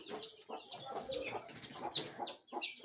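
Several penned chickens cluck and squawk close by in a rapid, overlapping chorus as they try to get out, with no talk over them.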